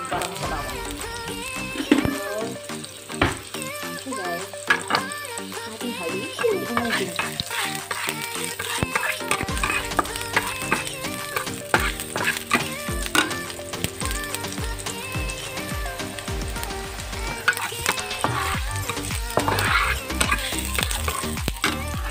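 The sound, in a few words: ginger frying in olive oil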